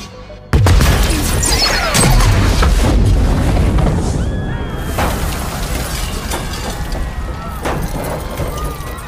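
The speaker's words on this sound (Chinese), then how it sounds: "剧烈的爆炸将霍恩炸得满身是血" A violent explosion in an action TV series scene: a sudden loud blast with crashing, shattering debris, then a long rumbling, crackling tail of falling wreckage and fire, with faint voices amid the aftermath.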